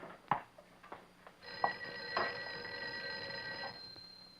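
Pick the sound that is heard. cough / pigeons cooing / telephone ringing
telephone ringing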